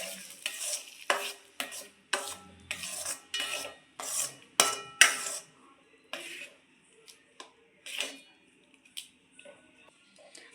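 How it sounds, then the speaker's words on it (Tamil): A spoon stirs a moong dal and rava mixture in a pan, a rhythmic run of close scraping strokes with faint sizzle beneath, slowing and thinning out toward the end. "இப்போ இந்த ரவை கூடயே நம்ம இந்த பாசிப்பருப்பை ஊற்றிடலாம். இப்போ எல்லாத்தையும் நல்லா மிக்ஸ் பண்ணிடலாம்."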